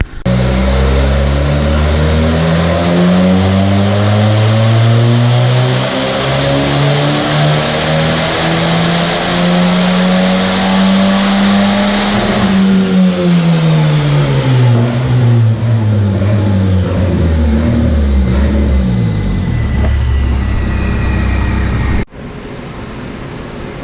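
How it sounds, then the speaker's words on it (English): A performance car with an upgraded cam runs hard on a dyno, its engine note rising steadily through the revs in one long, loud pull, then dropping before cutting off abruptly. "So Dan's gonna do a pull, and we're gonna see what it makes."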